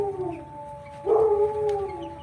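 A neighbor's dog howls in a long drawn-out wail from some distance away, rising and then holding steady under quiet outdoor background noise.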